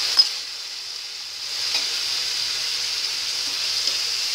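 Tomatoes frying with pink-browned onions in a pan for an egg, onion, tomato and chilli sabzi, a steady close sizzle holding level throughout, with faint scrapes of stirring and no talk.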